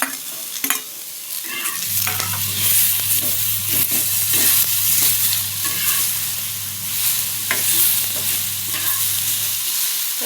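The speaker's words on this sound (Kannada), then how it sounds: "ಇದರಲ್ಲಿ ಟೊಮೆಟೊನು ಹಾಕಿ ಹುರಿದು" Tomatoes frying in a pan for chicken curry, a steady loud sizzle with stirring scrapes and a low continuous hum running through most of the clip.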